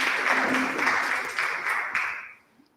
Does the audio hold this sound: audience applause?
yes